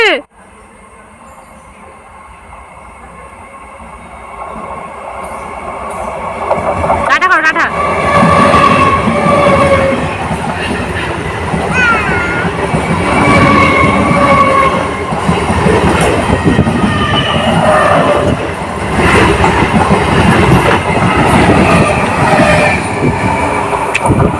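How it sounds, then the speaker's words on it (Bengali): A train passing on a railway line, rising from quiet to a loud, sustained rumble and rattle of wagons close by, with voices faintly underneath. "পাথর সরাও ট্রেন আসছে"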